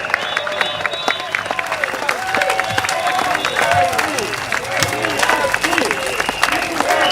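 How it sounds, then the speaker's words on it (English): Sustained crowd applause and cheering fill an outdoor PSP election rally at Catholic High School in Singapore, a dense, steady roar of clapping with scattered shouts throughout. "Can we have one more round of applause for Doc, as well as our candidate standing for the election?"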